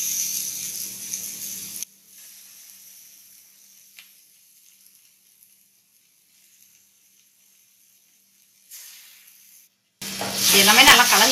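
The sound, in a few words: liver sizzling and being stirred in a frying pan with pepper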